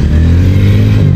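A motorcycle runs close by during stunt practice, its engine giving a loud, steady low-pitched drone with a faint clattering edge.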